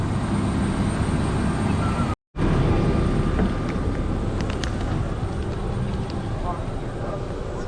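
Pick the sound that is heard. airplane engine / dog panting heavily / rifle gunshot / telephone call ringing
airplane engine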